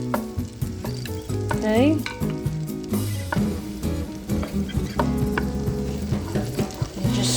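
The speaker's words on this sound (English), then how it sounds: "we're just gonna go ahead and melt the butter with the minced garlic" Butter melts with minced garlic in a pan for broccoli potato cheese soup, a loud, close sizzle mixed with clanking and scraping of a utensil, and a short spoken word near the start.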